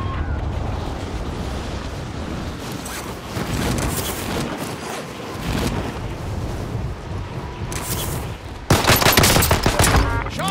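Dense video game gunfire, with rapid bursts and volleys of shots running throughout, growing louder and heavier near the end, with no talking.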